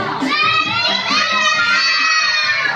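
A crowd of children at a Christmas party shouting loudly and continuously, high-pitched voices overlapping close by.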